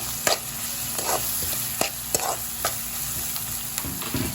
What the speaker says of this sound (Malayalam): എന്നിട്ട് കറിവേപ്പില ഇട്ട് കൊടുക്കാം